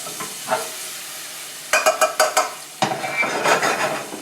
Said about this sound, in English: Let these onions cook for a few minutes till they get translucent.